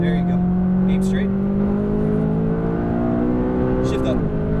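McLaren 570S on a race track accelerating, its engine rising steadily in pitch, with a brief high chirp near the end as it shifts. A voice coaches over the engine.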